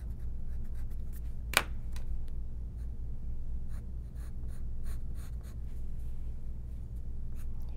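A pencil sketches lines of hair and an ear on paper in a steady, close scratching rasp with short separate strokes and one sharper tap. No one talks.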